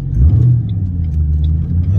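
A Ford Mustang GT convertible's engine pulls under acceleration with a loud, steady low rumble and a slight rise in pitch, heard from close by for about two seconds without talk.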